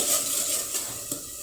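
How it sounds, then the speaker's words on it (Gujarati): Tomatoes and crushed chillies being stirred in a pan for Gujarati dal, a steady scraping and soft sizzle of frying with a light clink of utensil against metal, close and continuous. "ટમેટાને આ રીતે હલાવતા રહેવું, તે તળિયે સોટી ન જાય તેનું ધ્યાન રાખવું."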